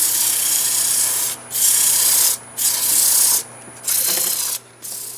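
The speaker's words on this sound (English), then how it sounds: "Let me get this finished sanding" Wood is sanded by hand with sandpaper on a turned wooden manhole-cover piece, loud close rasping strokes in five or six bursts separated by short pauses.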